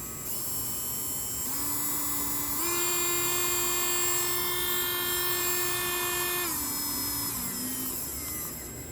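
A WEN rotary tool with a 5,000 to 25,000 RPM range whines steadily, its pitch stepping up through higher speeds and then back down, loud and close with no talk.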